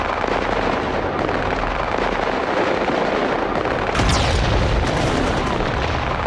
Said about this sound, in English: We had heavy explosions.